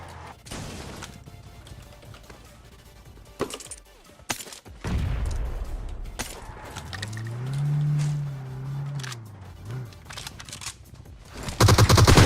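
Gunfire in the mobile battle royale game PUBG Mobile, during a competitive esports scrim: sharp bursts of shots and rapid fire with a rising engine-like tone in the middle, loud and close.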